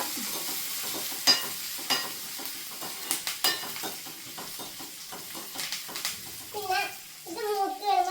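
Curry leaves are stirred in a frying pan for pulissery, giving a steady sizzle with scraping spatula strokes, and faint voices are heard toward the end.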